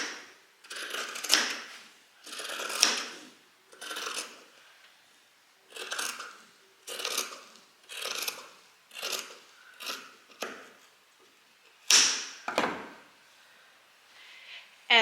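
Scissors snip through fabric while sewing summer pyjamas, about a dozen distinct close cutting strokes in a steady rhythm, each a short crisp rasp separated by brief pauses, with no talking.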